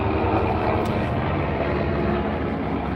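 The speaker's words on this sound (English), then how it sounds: "Looks like we got a helicopter coming over." A steady, broad rumble of a helicopter passing overhead, loud and constant for the whole stretch with no talking.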